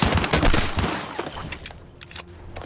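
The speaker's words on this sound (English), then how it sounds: "You have the infantry layer, where teams exchange gunfire on foot." Infantry gunfire in Battlefield 6, a dense fusillade of rapid rifle and machine-gun shots crackling close and loud at first, then thinning into scattered, more distant bursts.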